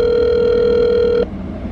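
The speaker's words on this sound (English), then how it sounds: "I've got Jared on the phone here from Current Performance Wiring" A telephone ringback tone plays as a call goes out: one steady, unbroken electronic tone lasting just over a second before it cuts off, leaving quiet line noise.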